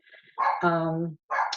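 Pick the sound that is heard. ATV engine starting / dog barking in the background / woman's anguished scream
dog barking in the background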